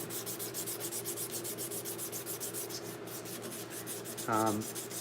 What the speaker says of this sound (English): today is just some hand sanding